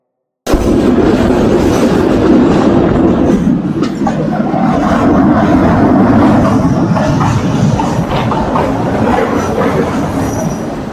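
A local passenger train runs along rural rail track in Bangladesh, giving a loud, continuous rumble of wheels on rails with faint clatter, heard close up from on board for the whole stretch, with no voices.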